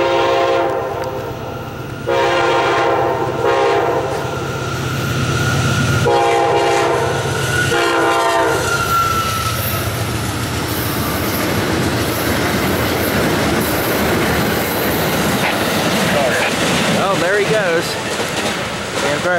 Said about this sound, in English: Here comes a late Amtrak 79.